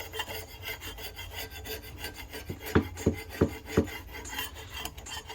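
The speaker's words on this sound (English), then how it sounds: "I just take a putty scraper and scrape that stuff up" A putty scraper rasps grease buildup off a wooden oak cabinet drawer in repeated close scraping strokes, with several sharper knocking scrapes in the middle of the run.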